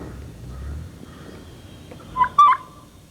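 Wild turkeys gobble outdoors in two short, fairly loud bursts near the end, following a long stretch of quiet ambient background.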